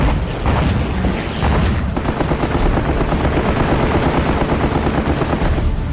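Anti-aircraft flak gunfire over the Leyte Gulf naval battle, loud dense rapid bursts and booms forming a sustained rattling barrage with no voices.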